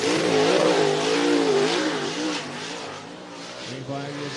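Dirt track race cars accelerating at the green flag at Cottage Grove Speedway in Cottage Grove, Oregon: several engines revving hard with wavering pitch, loud and close, with a brief dip before rising again.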